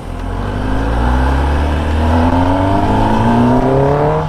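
A 2021 Kawasaki ZX10R engine revs up, pitch climbing steadily in a loud, close whine and roar that holds high, with no talk over it.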